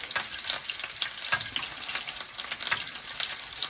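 Beef braciole fries in butter over lowered heat, crackling and sizzling steadily at moderate volume with no voices.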